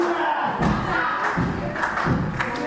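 A wrestling crowd cheers behind a struggling wrestler, a broad roar of voices rising in surges with heavy ring thuds landing among them, while a commentator talks over the noise.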